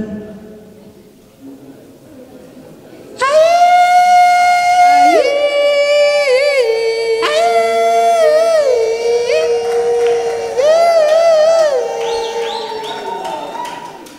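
Wedding guests at a Banyamulenge bride celebration ululate in long, high warbling trills that rise and fall in overlapping bursts, loud and close, following a quieter start.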